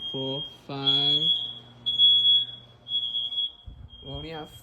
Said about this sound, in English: I hate this stupid alarm things.